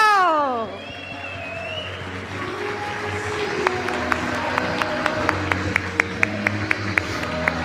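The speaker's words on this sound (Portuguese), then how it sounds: "salva de palmas" Audience applause at a couples' prosperity talk in Portuguese, a dense wash of crowd clapping following a descending musical sting, with music continuing underneath and rhythmic sharp hits near the end.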